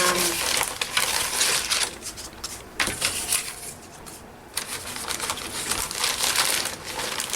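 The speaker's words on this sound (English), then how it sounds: "This is just a plastic bag where I keep some of my" A plastic bag holding papers is handled close by, crinkling and rustling loudly in continuous bursts with a short quieter pause midway.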